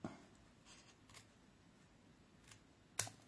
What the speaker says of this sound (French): je prends mes beaux ciseaux Stampin' Up qui coupent super bien